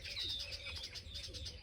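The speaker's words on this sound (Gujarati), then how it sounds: "ચકલો બોલો છે" A sparrow chirps in short, rapid bright notes close by in a rural village yard, a quick repeating run of tweets over a faint low background.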